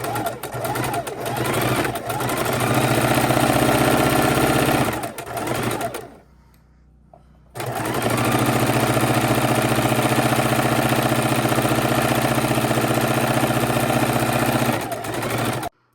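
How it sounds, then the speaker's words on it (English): A sewing machine runs at a steady fast hum, chain stitching stacks of quilt pieces, stopping briefly near the middle and starting again for a long continuous run. "And keep sewing your stacks. And I am just continuing to chain stitch these as we go."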